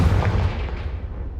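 A Confringo fire spell explodes in the Hogwarts Legacy video game, a single heavy, booming blast that hits hard at once and then rumbles away over a second or so.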